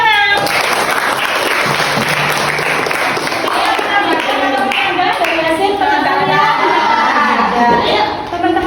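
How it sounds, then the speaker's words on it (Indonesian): A classroom of sixth-grade children claps for a student group after their solar system presentation, loud, dense and steady for the whole stretch, with a few young voices chattering underneath. "Kasih tepuk tangan"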